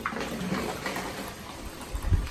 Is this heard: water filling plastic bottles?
yes